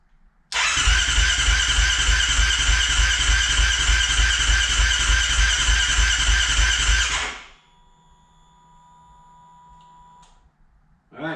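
A Kawasaki KFX 450R quad's engine on its first start attempt gives a loud, steady mechanical roar for about seven seconds, then cuts off abruptly, leaving a faint high whine and low hum.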